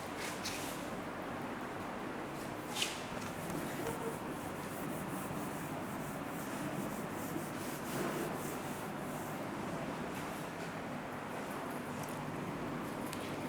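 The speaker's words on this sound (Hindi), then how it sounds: "मैं इसको रब कर देता हूँ" Writing is rubbed off a board during a class 9 maths lesson, giving a steady, close scrubbing rasp that runs continuously with little variation and no talk over it.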